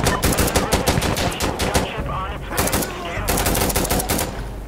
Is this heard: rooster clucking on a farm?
no